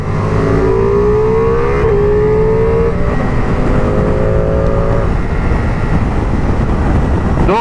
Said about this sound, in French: on va faire un petit accel tranquille